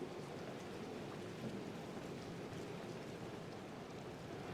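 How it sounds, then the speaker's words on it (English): Steady rain in the Madden NFL 24 football video game, a constant soft hiss of falling drops during a game's second half, faint and even throughout with no talk. "The rain set to continue as we are underway in the second half."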